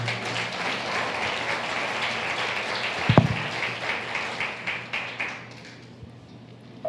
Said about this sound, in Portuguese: Aplauda o Senhor pelo seu desvio.